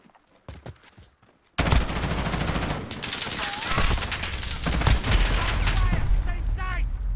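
Gunfire in Call of Duty Modern Warfare beta, a few sharp isolated shots followed by a sudden, sustained barrage of rapid automatic fire and impacts, loud and close, with game voice callouts underneath.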